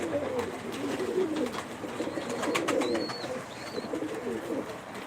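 Pigeons coo steadily in a coop, layered low throaty calls overlapping close by, with a few faint chirps and clicks on top and no clear talking.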